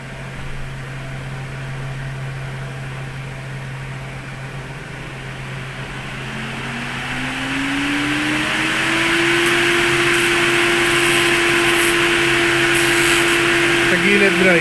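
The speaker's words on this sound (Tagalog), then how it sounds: "Testing na tayo ng airflow ng 14 inch spal brushes fan sa Evo 5." A 14-inch SPAL brushless radiator fan running on a Mitsubishi Evo 5: a steady close airflow whoosh with a low motor hum that rises in pitch as the fan speeds up and then holds steady and louder.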